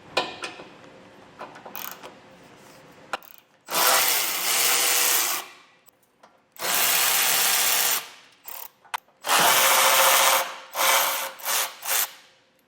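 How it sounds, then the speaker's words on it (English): Power tool on bumper support bolts of a 2021 Jeep Grand Cherokee, with three long, loud buzzing runs separated by quiet gaps and short ratcheting clicks. "We have 3 bolts that we're going to remove from the bumper support."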